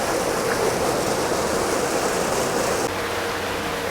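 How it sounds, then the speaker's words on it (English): Water rushes steadily through a rapid sand filter at a treatment plant during backwashing, a continuous broadband roar like a waterfall that holds an even level, then drops slightly near the end. "As you can see in this rapid sand filter, that backwashing is going on."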